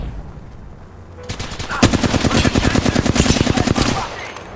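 Rapid automatic gunfire in a video game, a fast burst of evenly spaced shots lasting around two seconds after a brief lead-in, loud and close, with faint speech underneath.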